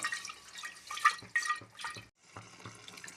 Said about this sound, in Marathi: या कुकरमध्ये मी थोडंसं गरम पाणी ॲड करणार आहे